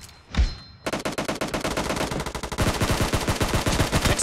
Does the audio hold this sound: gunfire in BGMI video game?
yes